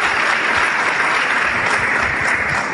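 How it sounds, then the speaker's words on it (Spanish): A seminar audience breaks into loud, sustained clapping that fills the room evenly from start to finish. "Vale, un aplauso tremendo"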